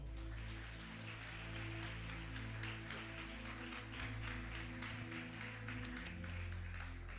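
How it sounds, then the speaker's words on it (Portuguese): A church congregation claps to welcome a preacher, a soft, steady patter of many hands heard at a distance over a low hum, with a couple of sharper knocks near the end. "Vamos receber o Marcos com as palmas?"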